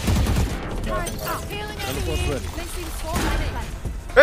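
Shotgun blasts and bursts of gunfire sound in a shooter video game, mostly near the start, while players talk excitedly over the action.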